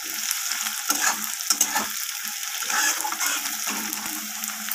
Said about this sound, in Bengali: আলুটাকে লাল লাল করে ভেজে নিতে হবে।